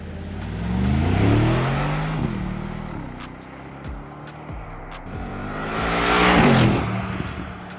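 A Mercedes G63 AMG engine revs up and down through upshifts and downshifts, its rising and falling tones heard from inside the cabin, swelling loudest near the start and end.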